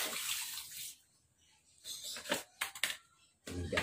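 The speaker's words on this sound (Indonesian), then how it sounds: "Habis ini kita siram guys," Water poured onto a small Bidara bonsai, soft splashing bursts that start and stop in short spurts, quiet and close, with brief pauses between pours.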